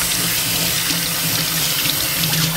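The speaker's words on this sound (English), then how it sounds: "turn the water on," Tap water running steadily into a sink during handwashing, a close, continuous hiss and splash that stays even and unbroken throughout.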